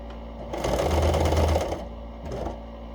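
A sewing machine runs a straight line of stitching across a fabric mask, a close steady whir for about a second with a short second burst shortly after, over a constant low hum.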